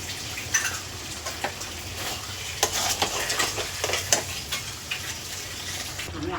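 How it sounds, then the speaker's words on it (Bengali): Chicken with yogurt stir-fried in a pan, with an even frying sizzle under repeated scraping strokes of a spatula, a few sharper clatters standing out, close and fairly loud. "দইটা দিয়েছি এবার ভালো করে কষাই"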